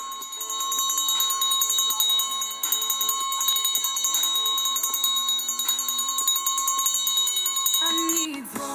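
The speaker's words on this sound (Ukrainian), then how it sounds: "Цей дзвоник сьогодні ваш, останній, особливий, незабутній." A loud electric school bell rings continuously for about eight seconds at a last-bell ceremony, a steady metallic clang that stops abruptly near the end.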